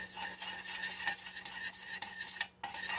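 A spoon scrapes and clinks repeatedly against a pot while melted butter and sugar are stirred together, a quiet, close rhythmic stirring with a low hum underneath.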